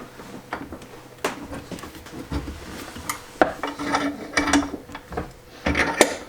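A mountain bike seat post being tightened into a cutting guide clamp in a garage, giving close, irregular metallic clicks, ratcheting and scraping knocks of varying loudness.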